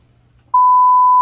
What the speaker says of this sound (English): I even screwed up the beep.